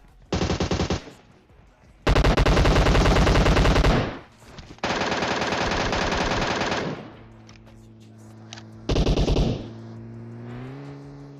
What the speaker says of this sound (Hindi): उसके ऊपर से ये पीछे से गोली चलाते हैं।